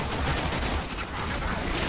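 Dense, loud bursts of gunfire in the video game Warframe, a near-continuous barrage of overlapping shots filling the whole moment, with players talking over the shooting.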